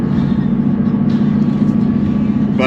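Engine and transmission drone from a 2016 Ford Mustang with a shifter bushing and transmission mount insert, heard from inside the car while driving, a steady low hum with a brief mechanical whine near the end.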